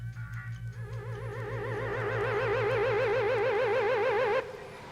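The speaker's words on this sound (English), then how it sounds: "Look, Schlock, here comes a car" A comedy-sketch car approaching, its engine thrumming in a pulsing rhythm that gives way to a loud, wobbling, warbling horn-like tone that swells and cuts off abruptly near the end.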